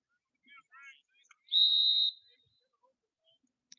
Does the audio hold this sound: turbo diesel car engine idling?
no